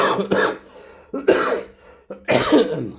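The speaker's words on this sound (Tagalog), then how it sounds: "Itong ubo ko talaga oh." Three loud, harsh coughs, each a rough burst that trails off, spaced about a second apart and close by.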